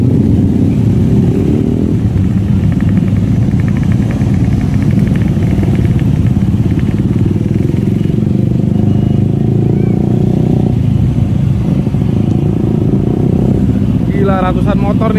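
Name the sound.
hundreds of motorcycles at a ferry port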